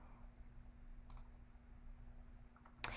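Single sharp computer mouse click near the end, following quiet room hum, as a website sign-up button is pressed; a fainter click occurs earlier.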